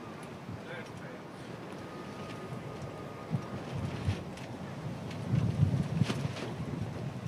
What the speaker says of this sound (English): that is very blustery wind